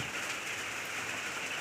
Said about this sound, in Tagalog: kung naririnig nyo ay malakas po yung ulan ngayong gabi dito sa amin